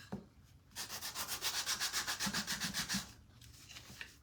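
Sandpaper rubs back and forth over a wooden tabletop in steady rhythmic strokes, roughly a dozen even scratchy passes close up, with quiet pauses before and after.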